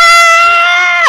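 A gun in the Borderlands 2 video game lets out a loud, shrill scream as it reloads, a sustained high wail lasting about a second before breaking off abruptly.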